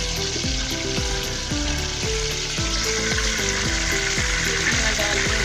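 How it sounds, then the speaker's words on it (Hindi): Spices sizzle and crackle in hot oil for aloo palak, a loud, steady frying hiss with dense popping spread evenly from start to finish, no voices over it. "ऑयल हमारा गर्म हो चुका है, मैंने 2 बड़े चम्मच ऑयल के डाले हैं।"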